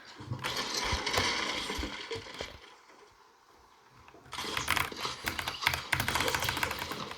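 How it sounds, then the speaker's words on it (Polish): Typing on a Redragon Fizz Pro K617 mechanical keyboard, a quick clattering of key clicks in two bursts split by a short quiet pause, close and moderately loud. "klawiatura to Red Dragon Fizz Pro K617"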